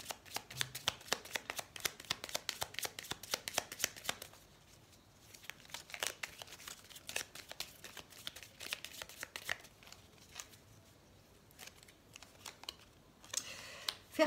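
Tarot cards are shuffled by hand in rapid papery riffles and flicks, close and fairly quiet, coming in bursts with brief pauses between them.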